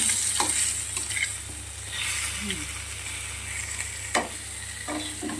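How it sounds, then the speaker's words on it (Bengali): Eggplant slices fry in ghee in a home kitchen, a continuous close sizzle and hiss with occasional stirring scrapes and a brief clink, faint voice traces in the background. "বেগুন ভাজা হচ্ছে, ঘি দিয়ে বেগুন ভাজা।"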